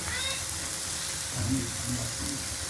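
A sugar paratha fries in a pan with a soft, continuous sizzle and light crackle at close range. Brief faint voice sounds come through partway in.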